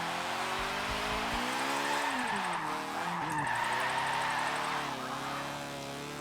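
Rotary-swapped car on thin wheels in Forza 7, sliding loose with a steady tire skid over a droning, sweeping rotary engine note, sustained and fairly loud throughout.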